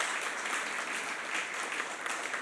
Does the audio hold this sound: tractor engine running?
no